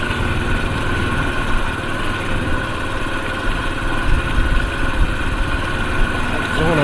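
Honda C90 motorbike engine running steadily at low speed on a rough track, a constant close buzzing drone with no talking.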